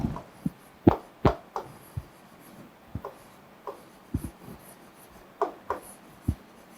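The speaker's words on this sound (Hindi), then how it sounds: "तो यहाँ पर हम लोग लिखेंगे" Chalk or marker tapping and scratching on a classroom board during a kindergarten environmental studies lesson, a series of short, sharp strokes spaced irregularly, fairly close, with no talking.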